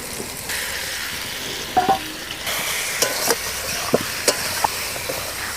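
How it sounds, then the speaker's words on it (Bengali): Fried potatoes stirred with spice paste in a pot for chicken biryani, a steady sizzle under scraping spoon strokes and a few sharp clinks against the metal. "আলু আর মশলাটা কিছুক্ষণ কষিয়ে নিলাম।"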